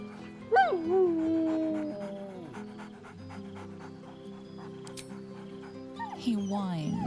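A dog whines in the Baldur's Gate III video game, with a high, wavering whimper near the start and another at the end, over a low steady background hum and faint ambient sounds.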